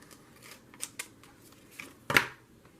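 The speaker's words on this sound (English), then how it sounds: "Scissors, little scissors." Little scissors snip through paper to cut out shapes, a few light, separate cuts with one sharper, louder snip near the end, close by and quiet.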